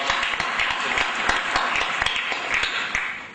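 Applause from a conference audience at a business software event, a moderate patter of clapping with distinct individual claps standing out, steady and fairly close throughout.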